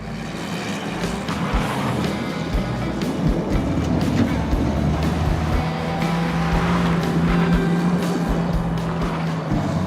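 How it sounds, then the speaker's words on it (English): A Ford Pinto with a 2.3-liter engine is driven hard, its engine roaring steadily with continuous road and wind rush, loud and close throughout. "This must be what it feels like to be a Formula One driver, except, you know, in a Pinto."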